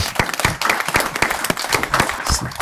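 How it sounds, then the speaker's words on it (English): Applause at a county legislative board meeting, a room of people clapping steadily for a few seconds with scattered individual claps and a faint voice in the background. "Somebody's got to start the applause."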